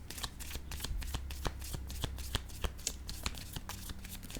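Cards riffled and shuffled by hand for a card reading, a steady crisp flutter broken by sharp snaps and taps as the deck is cut and squared, close and fairly loud with no talking.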